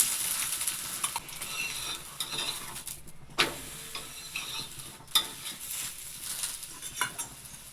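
Chonge, a sweet flatbread from North Karnataka, cooks in oil on a griddle with a soft, even sizzle, broken by several sharp taps and scrapes of a utensil against the pan.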